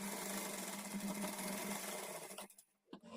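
A sewing machine stitches a blouse in a steady, continuous mechanical whir close up, stopping briefly near the end before starting again.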